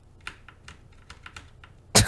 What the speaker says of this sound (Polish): Teraz już nawet ja słyszę twoją klawiaturę, więc jest źle.